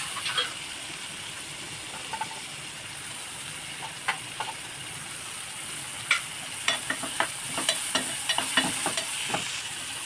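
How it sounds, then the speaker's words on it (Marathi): Tomatoes and onions sautéing in oil for a white cowpea curry, giving a steady soft sizzle with a hiss of steam and scattered sharp clicks and taps of a spoon stirring the pan over about ten seconds, no voices. "टमाटर तेला आणि कांद्यामध्ये परतून घ्यायचे"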